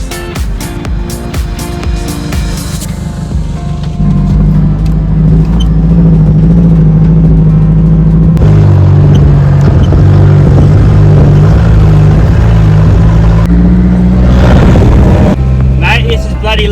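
A car drives off along a beach in Australia, its engine loud and steady with rises as it revs, running under occasional talk.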